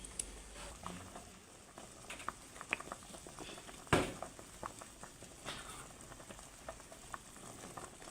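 Quiet, steady bubbling and light sizzling from a pot of water coming to a boil for cooking fish, with a few small clinks and taps, no speech.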